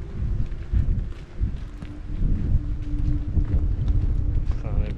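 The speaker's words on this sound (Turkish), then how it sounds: "Ama bu bölge epey rüzgarlıymış" Steady wind blowing across an outdoor hillside site at an open-air archaeological museum, a continuous low rushing roar with gusty buffeting on the microphone throughout, while people talk over it.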